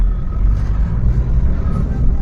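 A car engine rumbles steadily with low road noise as the vehicle pulls away during a chase from police, heard as played-back footage with a continuous, fairly loud drone.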